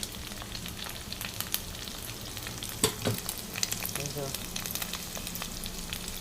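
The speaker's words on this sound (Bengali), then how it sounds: "ভাত ভাজা বানাচ্ছি বুঝতে পেরেছেন ভাত ভাজা" Fried rice sizzles and hisses in a hot kadai as it is stir-fried, with a steady close-up frying crackle broken by a few sharp scrapes and clanks of the spatula against the pan.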